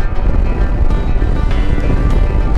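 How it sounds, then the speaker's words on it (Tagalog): Strong sea waves surge at Saud Beach, a dense continuous roar of surf mixed with heavy gusting wind buffeting the microphone. "Lakas ng alon no."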